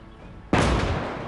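A single heavy blast of artillery fire, a tank being hit in a Russian Hardcore Conquest war game, strikes suddenly after a quiet moment and rumbles on loudly to the end.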